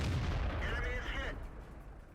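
Tank cannon fire aimed at an M103 in a tank video game, a loud single blast with a ringing decaying tail, heard over game noise and voice.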